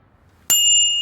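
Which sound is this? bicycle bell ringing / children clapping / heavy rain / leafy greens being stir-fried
bicycle bell ringing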